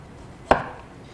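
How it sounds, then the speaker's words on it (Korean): A single crisp knife chop through carrot onto a cutting board, one sharp isolated strike while prepping ingredients for ulmyeon, a Chinese-style noodle soup. "당근 편 썰어서"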